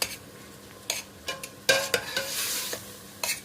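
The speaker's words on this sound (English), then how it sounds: "Give it a stir. It's on a high heat, this at the moment." Cauliflower and potato curry cooking in a pan over high heat, with a steady sizzle broken by several sharp scrapes and knocks as a utensil stirs it, close and unaccompanied by talk.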